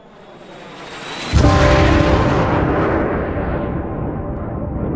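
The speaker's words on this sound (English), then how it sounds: "cool mountain scene there with the F-14 Tomcat flying in" An F-14 Tomcat jet flies in over a mountain scene from a Top Gun: Maverick movie trailer: a sudden loud roar swells in and then holds as a broad, rushing engine blast that slowly fades, with no speech.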